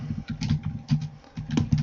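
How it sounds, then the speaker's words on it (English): Loud, fast typing on a computer keyboard, a dense run of clattering keystrokes in irregular bursts with brief pauses, close and prominent with no talk. "Whoever's typing right now, it's pretty loud."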